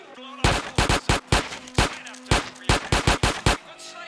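A gun in GTA San Andreas fires about a dozen sharp, loud shots, some in quick pairs and clusters, some spaced apart, over a low steady hum.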